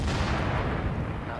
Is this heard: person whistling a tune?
no